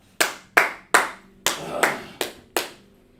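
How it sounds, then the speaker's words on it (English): Audience clapping in sharp, distinct bursts at a gathering, seven loud separate claps spaced unevenly over a few seconds, close by with no talk over them. "Clap it up for Sister Yana."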